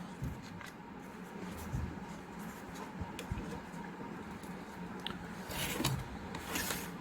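A pen scratches across paper while a graph is drawn, a faint close run of uneven scribbling and rubbing strokes with soft taps, no talking.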